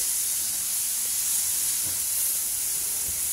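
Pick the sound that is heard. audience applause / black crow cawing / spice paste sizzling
spice paste sizzling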